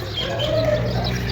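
Birds at a bird park in Fez, with clucking and calling fowl mixed into a steady outdoor background, continuous and moderately loud.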